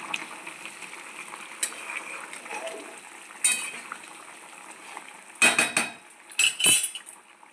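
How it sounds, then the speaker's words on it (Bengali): Fork poking and clinking against boiled potato in a pot, a few sharp metallic taps and scrapes over quiet kitchen background with faint talk. "আমি এই কাঁটা চামচের সাহায্যে একটু দেখে নেবো আলুটা সেদ্ধ হয়েছে নাকি"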